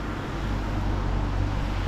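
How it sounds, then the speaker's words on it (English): A train or tram passing through the Alpine village of Lauterbrunnen, Switzerland, produces a steady, fairly close low rumble with a humming drive tone and breezy outdoor noise, holding constant throughout with no talking. "Oh, there goes the train now."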